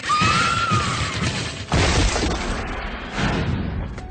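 Loud crashing and splintering as a weak plywood wall gives way under a person's weight, with a sharp cry at the start and a second burst of breaking debris.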